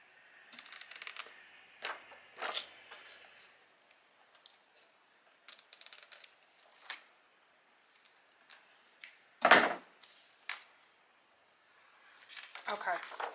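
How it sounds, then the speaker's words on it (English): Scissors trimming excess sublimation wrap or paper from around a tumbler being prepared for an auto tumbler heat press, a series of short, close snips and rustles with quiet gaps between them and no voice. "I'm gonna cut off the excess."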